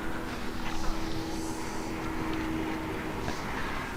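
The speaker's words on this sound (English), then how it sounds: "Wow, helicopter out tonight." A helicopter flies in the video game Far Cry 4, its engine drone steady and broad under the game's wind and ambience, neither approaching nor fading, with no talking heard.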